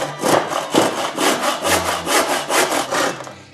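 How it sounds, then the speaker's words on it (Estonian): A hand saw cuts through wood at a young carpenters' competition, using the blade's full length in steady, rhythmic rasping strokes, loud and close with no talk. "kasuta sae kogu pikkust"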